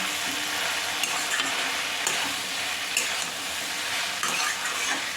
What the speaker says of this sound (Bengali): এবার এই সব কিছুকে আমি ভালো করে মিশিয়ে নেব।